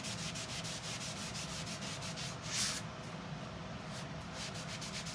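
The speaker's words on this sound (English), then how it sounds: "So I just have a microfiber cloth, and I'm just rubbing a tiny amount on here." Steady close rubbing of a microfiber cloth spreading a small amount of wax over a painted welcome address sign, a continuous rhythmic swishing with regular strokes and one slightly louder pass midway.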